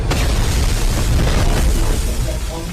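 Cannon fire in a battle scene from the film Chhaava, a loud deep boom that rolls and rumbles for a few seconds, with faint voices underneath.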